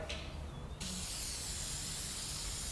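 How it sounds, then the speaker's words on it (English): A short burst of WD-40 aerosol lubricant spray hisses close by onto a spade blade, then a broader, steady hiss continues to the end. "All you need to do is give it a spray"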